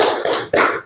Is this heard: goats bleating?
no